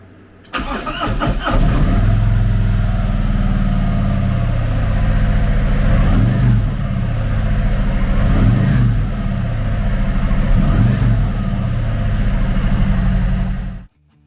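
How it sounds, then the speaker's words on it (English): A 2022 Harley-Davidson Tri Glide Ultra Classic with a 114 cubic inch V-twin cranks and fires up, then settles into a loud, close, lumpy idle with a few light throttle blips before cutting off. "Powered by a 114 cubic inch V-twin motor, the TRIGLIDE puts 100 horsepower and 121 foot-pounds of torque through a 6-speed transmission."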